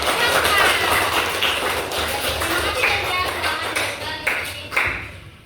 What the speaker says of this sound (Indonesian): Iya, tepuk tangan buat kelompok.